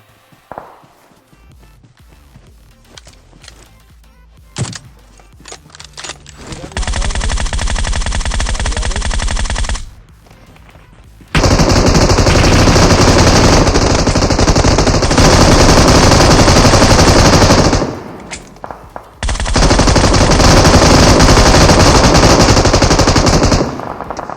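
Automatic weapons fire in the mobile battle-royale game PUBG Mobile, heard as three long, loud, continuous bursts separated by brief pauses, with faint scattered shots and movement before the first.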